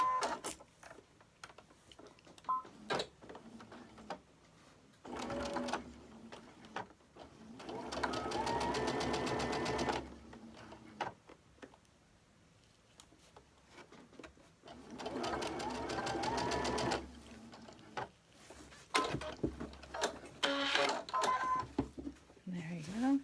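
A sewing machine stitches a side piece onto the body of a quilted barn block, running in two long bursts of steady rapid chatter separated by pauses, with a person talking in the gaps.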